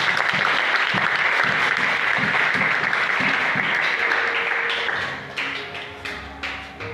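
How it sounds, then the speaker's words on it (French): A church congregation claps together during a French-language teaching service, a broad wash of clapping with some rhythmic beats that thins out near the end into a few scattered, fading claps. "Est-ce qu'on peut applaudir pour Jésus?"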